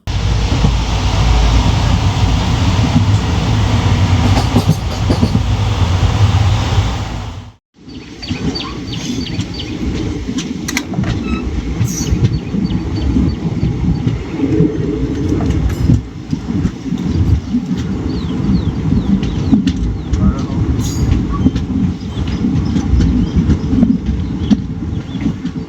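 The Tambaram to Mangaluru Express rolls along its rails in a continuous loud rumble and rattle. A brief dip in the noise comes early, then the steady roar resumes with faint clicks and knocks.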